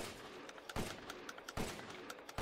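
A high-capacity weapon fires in the video game Resident Evil Village, with rapid bursts of loud gunshots, two heavier booming blasts among them, sounding dense and continuous at close range.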